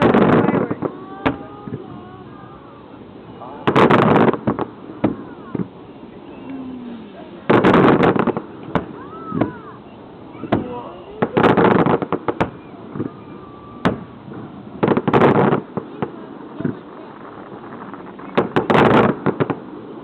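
Fireworks burst outdoors near a cliff in repeated loud booms spaced a few seconds apart, each followed by a rolling echo, with people talking and a voice between the blasts.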